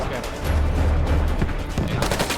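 A grenade explodes during a squad firefight in a video game, a loud low boom that swells and holds for about a second amid continuous gunfire crackle, with a sharper burst near the end.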